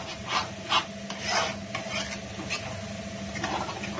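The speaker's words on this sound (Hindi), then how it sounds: "मैं इसको टमाटरों को भी इसके साथ भूनती जाऊंगी दाल के साथ ना" Tomatoes frying with lentils for dal in a pan: soft raspy scraping and stirring strokes over a faint sizzle, a few louder rubs early on, fairly quiet and close with no talk.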